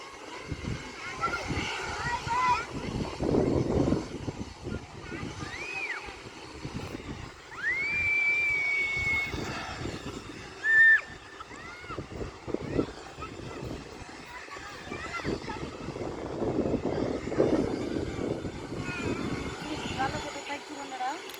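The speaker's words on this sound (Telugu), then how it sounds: "ప్యాసింజర్స్ ఎక్కడం అయిపోయిందండి ఇంజిన్ స్టార్ట్ అవుతుంది" A passenger aircraft at Kurnool airport starts its engine, with a steady, rising rumble and a faint whine heard from a distance under continuous background voices.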